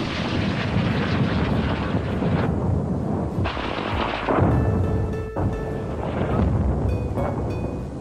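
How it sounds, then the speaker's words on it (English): Heavy artillery shelling of Dubrovnik's medieval walls during the 1991 siege rumbles with dense, loud blasts and booming impacts, followed by scattered sharper cracks. "Dubrovnik's medieval walls came under fire from modern artillery."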